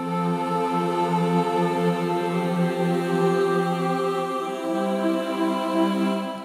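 Heavyocity Foundation Emotive Choir virtual choir ensemble singing a sustained, layered harmonic passage, steady and moderately loud throughout with no talking.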